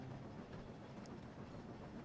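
A toy train rolls steadily along its track, giving a continuous low rumble with faint clicking, alone and fairly close throughout.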